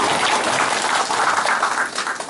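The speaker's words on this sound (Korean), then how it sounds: "박수 부탁드립니다." Applause at a Korean press conference for a parliamentary candidate, a loud, dense wash of clapping from the gathered room, steady before easing slightly at the end.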